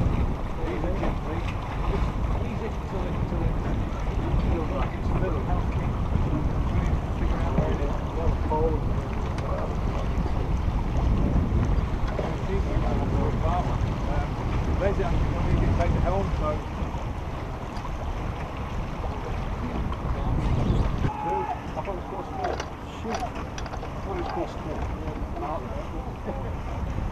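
Steady wind rushing over a sailboat under way, with broad continuous roar, water noise against the hull and microphone buffeting, while people talk on deck intermittently.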